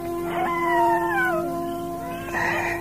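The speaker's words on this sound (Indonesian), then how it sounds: "anjing itu mulai melolong" A dog howls at night for a spooky radio drama, giving one long mournful wail that rises and then slides down. A second howl begins near the end, and both are clear and fairly close.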